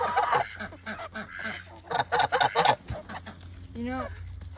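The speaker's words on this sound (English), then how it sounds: "That's all the muscovy. Those are a few other muscovies." Muscovy ducks and other fowl at a backyard flock call out in a loose jumble of short squawks and clucks, with a drawn-out honking cry near the end, fairly close.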